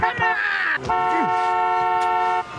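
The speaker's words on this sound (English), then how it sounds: "Honk the horn again, okay?" A car horn honks in a commercial, sounding in two long, loud tonal blasts separated by a brief gap, with a voice speaking over them.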